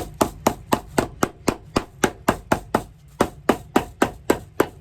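A hammer strikes a shoe in a steady series of sharp, close, evenly spaced blows, about four per second, with no voices.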